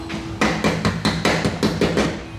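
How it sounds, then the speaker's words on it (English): Hammer blows flatten a folded sliver of sheet metal over a standing seam metal roof panel clip, about nine sharp, evenly spaced metallic strikes, close and loud, with no talk. "And I hammer it down like that."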